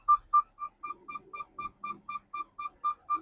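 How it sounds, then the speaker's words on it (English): A semi truck's low air pressure warning beeps steadily while the rig pulls out of a loading dock, a run of about thirteen evenly spaced, clear mid-pitched electronic beeps heard close up with faint rumble underneath. "You hear beeping telling me my air pressure is dropping."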